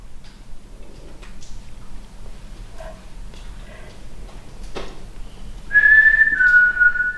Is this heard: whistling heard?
yes